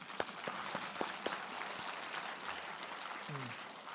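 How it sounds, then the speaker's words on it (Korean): A seated audience claps steadily at a political talk event in Mapo, Seoul; the applause is faint and fairly distant, with a few sharper claps standing out early on. "이건 박수 쳐주셔야 돼요."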